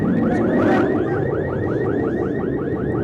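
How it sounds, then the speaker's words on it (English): A burglar alarm set off by an earthquake in San Francisco wails in rapid, repeating rising-and-falling sweeps, loud and steady throughout. "Burglar alarms were set off."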